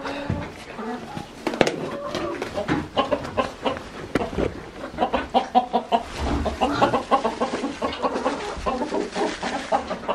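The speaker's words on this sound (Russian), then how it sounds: "И вот у нас такие курицы живут." Several farmyard hens clucking with a rooster among them at a home poultry yard, close and continuous with irregular overlapping calls while a person talks over them.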